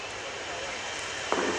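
Airbus A400M Atlas military transport aircraft taxiing past at an air display, a steady broadband engine roar that holds constant and swells slightly near the end as it passes.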